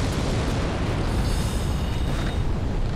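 A fire explosion spell in Dark Souls erupts in a dense, loud, roaring blast of broadband noise that stays heavy and sustained for about three seconds, close up and filling the sound with no talk over it.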